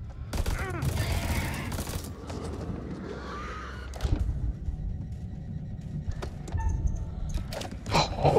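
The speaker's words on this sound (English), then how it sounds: "Oh, you're shooting again." Gunfire in the horror video game House of Ashes: scattered loud bursts of shots over a rumbling game soundscape, with a voice talking early on.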